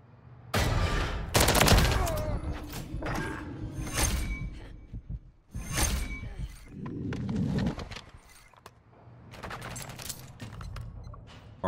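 Rapid gunfire in a Modern Warfare 3 multiplayer match, dense bursts of automatic shots and impacts crackling loudly across the scene with brief lulls between volleys.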